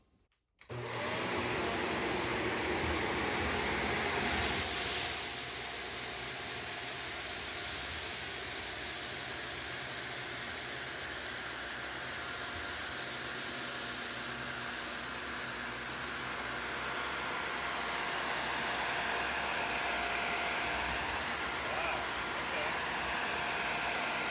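A Shark Vertex DuoClean PowerFins upright vacuum runs in hard floor mode, switching on abruptly into a loud, steady whooshing roar that holds for the whole stretch while a voice talks faintly underneath.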